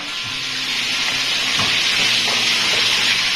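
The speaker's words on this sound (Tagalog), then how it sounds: "Nagpiprito ng tilapia." Tilapia sizzles and hisses steadily in hot oil, a close, continuous crackle with a few soft clinks.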